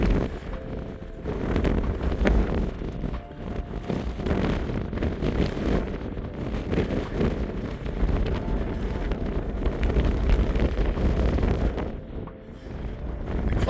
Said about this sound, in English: Forecast to be about 25 mph winds with 30 mph gusts